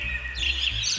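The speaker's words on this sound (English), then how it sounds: "I'm sorry about the birds. They're very loud." Birds chirp loudly and close by, quick high bright tweets repeating over a faint low background hum, with no talking.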